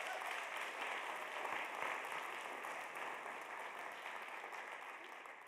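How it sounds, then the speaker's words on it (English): An audience at a college convocation claps steadily and evenly, a soft, distant wash of applause that holds throughout and thins slightly toward the end. "So let's give them all a round of applause."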